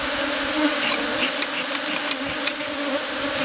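Bees buzz steadily and densely close by during bee venom extraction, forming a constant insect drone with faint ticks and bumps.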